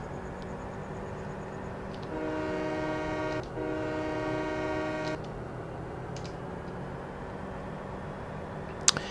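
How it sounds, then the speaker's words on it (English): Two-engine trains circle a loop in the Farming Simulator video game, a steady rail rumble broken by a sustained horn blast in the middle, with no talk. "The trains are cool."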